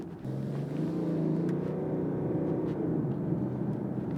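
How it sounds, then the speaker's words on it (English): A BMW 7 Series engine hum drones smoothly at an even pitch throughout, a low rumble with faint upper whine and no voices. "Now, the engine noise isn't the best."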